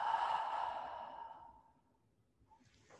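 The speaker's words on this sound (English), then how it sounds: "Exhale." At the end of a yoga class, a person lets out a long, deep, breathy exhale that starts fairly loud and close and fades to near silence over about two seconds.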